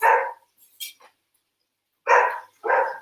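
A dog barks close by: one bark, a short faint yip, then after a pause two more loud barks in quick succession, with no talk over them.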